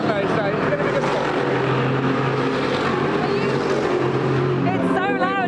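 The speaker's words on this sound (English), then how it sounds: "so a bit noisy these cars are, aren't they?" Race cars roar past at Goodwood SpeedWeek during the RAC TT, a loud continuous engine drone with shifting pitch close by, and voices talking over it.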